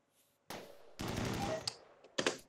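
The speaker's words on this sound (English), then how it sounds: "Next up we have the precision turret, which is the sniper turret, and we're going to shoot this lovely lady over here" Precision sniper turret in a video game firing a few sharp single shots, with loud bursts and a final crack near the end, each standing alone with no talk.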